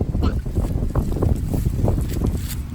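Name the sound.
wind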